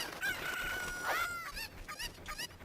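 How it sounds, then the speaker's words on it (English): A chicken in a Zelda video game crows a full cock-a-doodle-doo, followed by a few short clucks, clear and up front over quiet game background. "I don't know why I threw the chicken."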